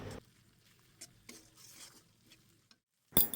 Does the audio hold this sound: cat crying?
no